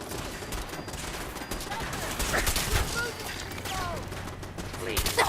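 Bursts of gunfire in Fallout 4 crackle through the scene amid busy combat effects and a constant background bed, while someone speaks Spanish over part of it.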